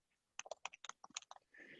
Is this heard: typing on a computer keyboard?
yes